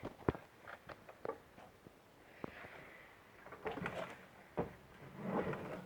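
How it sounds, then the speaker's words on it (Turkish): The door of a bird enclosure is handled and shut, giving a series of faint, close clicks, knocks and rattles spread over several seconds, with a soft rustling background and no talking. "Kapıyı kapatalım."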